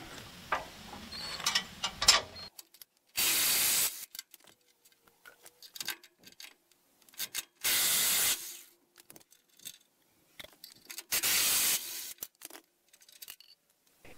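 A ratchet backs bolts out of a Norwood HD36V2 or HD38 sawmill valve bracket, with three loud bursts of rapid clicking separated by quieter metallic handling and tool taps, close up and with no talk.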